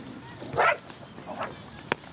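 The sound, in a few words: dog barking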